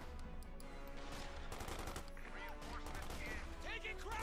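Unit gunfire in the game Company of Heroes 2, rapid bursts and crackling shots over a busy battle backdrop, with a voice talking through it.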